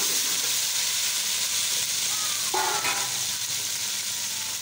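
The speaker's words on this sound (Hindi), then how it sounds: "थोड़ी सी फ्राई करूंगी।" About half a kilo of chicken fries with a little onion in a pan, giving a loud, even sizzling hiss throughout with a brief stir or clink midway, heard close and without speech.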